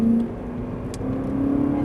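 Ferrari 458 Italia engine on a track at Nogaro, a close sustained drone that dips slightly then builds back as the car picks up throttle, with no talk.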